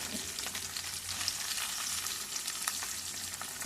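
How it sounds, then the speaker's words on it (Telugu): Onions frying in a pan for homemade chicken curry, a constant hissing sizzle with light scraping of a stirring spoon, close and steady with no talk. "ఆనియన్స్ వేసుకుందాం. ఇది లైట్గా బ్రౌన్ కలర్ వచ్చేలాగా ఫ్రై చేసుకోవాలండి."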